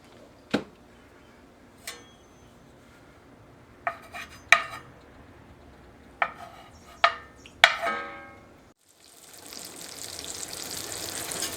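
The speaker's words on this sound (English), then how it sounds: "I'm gonna start off with a little bit of oil in the pan. And we'll put the sausage in." Oil in a cast iron pan with several sharp metallic clanks and taps, then sausage dropped in and a rising, steady sizzle that continues close by.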